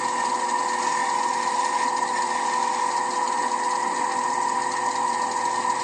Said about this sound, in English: I'm just going to shear scrape with the wing of the gouge